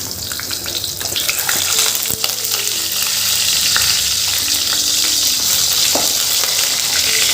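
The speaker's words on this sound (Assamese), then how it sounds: "দুইটা চাইড লুটিয়াই লুটিয়াই পূৰা ফ্ৰাই কৰি ল'ব লাগে।" Pork sizzles steadily in hot oil in a pan, a dense, continuous crackling fry with occasional clinks of a utensil stirring, close and fairly loud.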